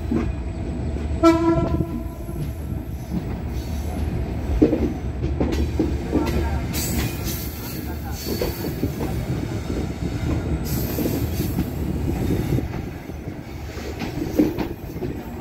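A train rolls through Poradah junction station in Bangladesh, loud and close, with a sustained rumble of wheels over the rails, a horn blast near the start, and bursts of clatter as the cars cross the switching points.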